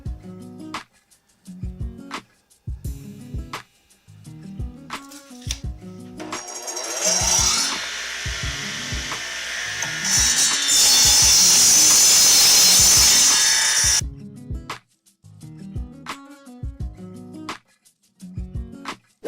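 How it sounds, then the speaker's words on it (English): A power saw whines loudly as it cuts through a board at a stop block for several seconds, with tapping and clattering of wood before and after. "All I've got to do is run the board up to the stop block and then cut it off."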